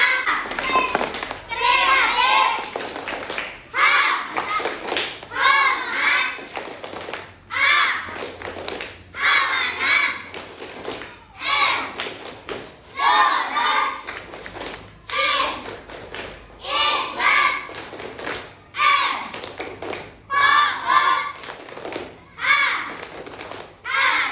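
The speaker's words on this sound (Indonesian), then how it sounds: "Tepuk Khalifah dulu ya." Children chant the Indonesian "Tepuk Khalifah" clapping chant together in a steady rhythm, their voices broken by regular claps and taps, loud and close throughout.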